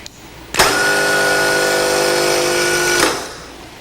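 An automotive starter motor running on a bench during a final electrical test: a sudden loud whirring whine starts, holds steady for about two and a half seconds, then cuts off and winds down.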